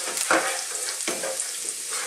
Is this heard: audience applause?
no